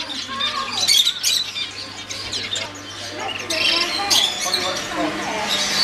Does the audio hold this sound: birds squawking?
yes